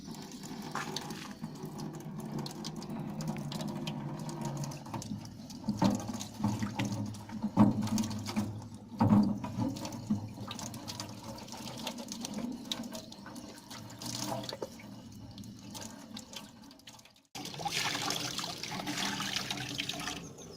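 Water runs steadily from a normal tap into a barrel, a close, continuous splashing and gurgling with a brief break near the end before resuming.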